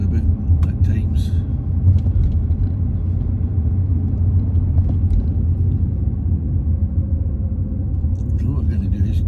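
A car drives through the town streets of Paisley, a steady low engine and road rumble running throughout with no clear change in pace, fairly close and even in level.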